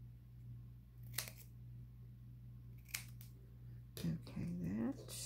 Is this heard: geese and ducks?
no